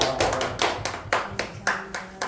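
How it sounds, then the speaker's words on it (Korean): A church congregation claps at the end of a Sunday worship service. The claps are sparse and slightly uneven, a handful of loud, distinct hand strikes with short gaps between them. "박수하겠습니다."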